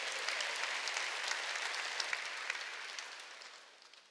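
A church congregation at a Sunday worship service claps together in a sustained burst of applause that gradually fades out toward the end.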